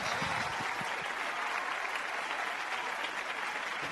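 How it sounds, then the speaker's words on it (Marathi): Hearty audience applause on a Marathi TV singing show, steady and even, heard at a moderate distance without speech. "इथं संदीप दादासाठी सुद्धा जोरदार टाळ्या होऊन झाल्या पाहिजे"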